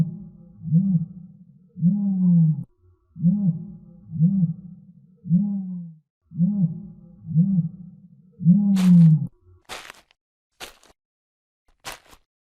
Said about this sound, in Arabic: نعامة.